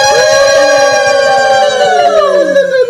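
A voice imitates an ambulance siren, holding a loud, wavering tone that slides downward near the end.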